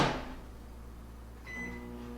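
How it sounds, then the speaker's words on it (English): A microwave door thumps shut, then a low, steady electric hum begins with a faint tone over it. "I'm going to put it in the microwave"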